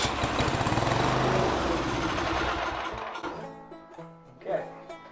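A Kawasaki FB460V small engine with fuel problems runs briefly on a squirt of gas, buzzing loudly and steadily for a few seconds before sputtering and fading out, followed by faint sounds.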